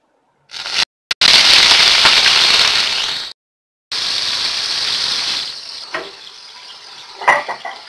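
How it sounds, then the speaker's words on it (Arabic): Shrimp dropped into a hot pan, bursting into a loud, close, steady sizzle that cuts out briefly, resumes, then fades into softer crackles and spits, with no speech. "بصوا سيبته يسخن كده، هنزل هدي صدمة كده للجمبري"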